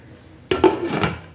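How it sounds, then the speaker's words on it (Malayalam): Chicken curry stirred in a pot and covered with a lid, a brief clatter of metal on metal, one sharp clank followed by a few lighter scrapes and knocks, close and with no voices. "ഇനി എല്ലാം കൂടി ഇളക്കി കൂട്ടിയിട്ട് മൂടി വെച്ച് വേവിക്കുക"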